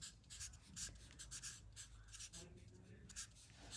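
A pen writes a name on paper in short, quick scratching strokes, close and faint, repeated in bursts with brief pauses.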